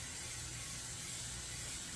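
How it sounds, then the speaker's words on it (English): A steady hiss of cooking spray, close and continuous for a couple of seconds, with no talking. "We're gonna add this cooking spray"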